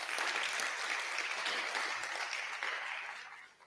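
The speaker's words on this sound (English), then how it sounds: "Again, I'll ask that a resounding applause for the court." Applause from an audience at a legal conference in honour of the court, loud dense clapping that holds steady and then tapers off at the end.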